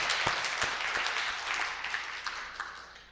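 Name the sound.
congregation applauding in church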